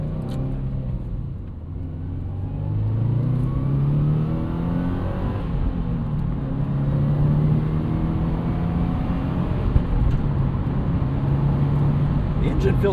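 A 2014 Subaru WRX hatchback with a five-speed manual and turbocharged boxer engine pulls and accelerates from inside the cabin, a steady low rumbling drone with rising and falling revs, and someone talks over it.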